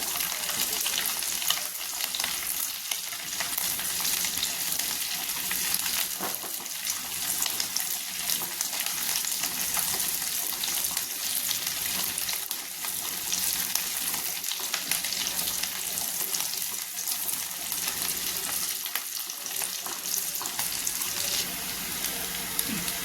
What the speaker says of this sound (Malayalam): നമുക്ക് കൊച്ചുള്ളി അതായത് ചുവന്നുള്ളി ഇട്ടൊന്ന് വഴറ്റിയെടുക്കാം